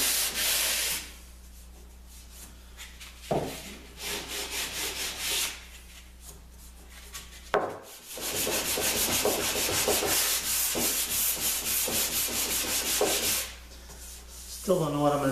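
A sanding block is rubbed by hand over wooden skirt boards, producing close, gritty scraping strokes in bursts of several seconds with short pauses between them.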